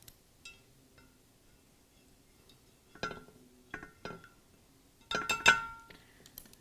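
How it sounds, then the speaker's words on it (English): A spoon stirs maple syrup and unsweetened applesauce in a bowl, giving a few scattered clinks against the dish with quiet gaps between them, close and fairly soft. "So I'm going to be mixing together maple syrup and unsweetened applesauce. And then stir this up."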